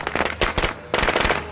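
Firecracker bursts in State of Decay 2, a loud rapid crackling string of pops in two dense bursts with a brief lull between, close and sharp with no talk.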